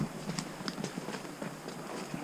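A horse walks a mountain trail in British Columbia during a goat hunt, its hooves clip-clopping in an even, close walking rhythm of distinct footfalls.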